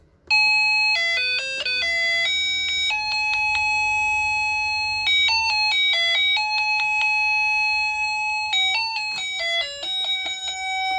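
A car-shaped melody wall clock plays its loud electronic chime tune, a bright sequence of clear ringing tones in repeated phrases with no volume control, heard close and alone.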